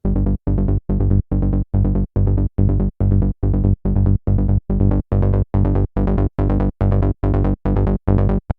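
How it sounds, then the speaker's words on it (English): Serum synth bass built from two stacked saw waves with random phase pulses in a steady rapid rhythm of short, punchy, droning notes that gradually brighten, loud and alone. "So we get like a moving bass sound like this."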